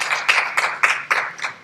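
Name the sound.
church congregation applause welcoming a visitor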